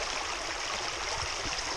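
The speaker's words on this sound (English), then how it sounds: "Sleep to the sound of the water." Steady broadband rush of stream water flowing near a bothy at Moel Prysgau, continuous and fairly quiet with no talk.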